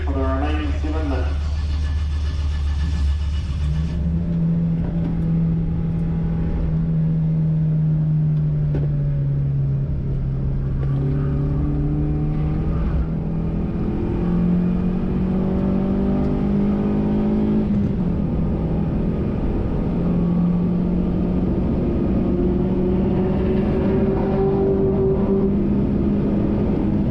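Toyota Vitz and other cars lapping the Pukekohe circuit on a track day, a loud continuous engine drone rising and falling in pitch as the throttle is held and gears change, with wind noise over it.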